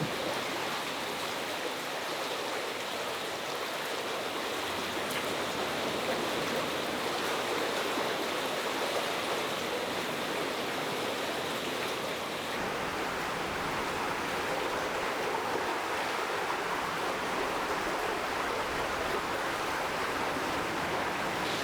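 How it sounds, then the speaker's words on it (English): Loud, continuous rushing water roaring through a coastal sea cave, a dense unbroken wash of noise with no pauses. "The water is just rushing by our feet. It's ripping through here."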